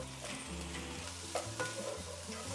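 Spring onion stir-fried over high heat in a wok for chicken chow mein, a steady close sizzle with scraping stirs and a few louder clatters, no voices.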